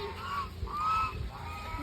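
Geese at a zoo in Kanchanaburi, Thailand honk several times in a row, nasal calls at moderate distance over a steady background hiss.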